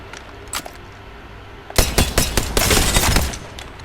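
Automatic fire from the Rampage LMG in Apex Legends, a loud, rapid burst of heavy shots that starts after a quieter stretch and holds for about two seconds.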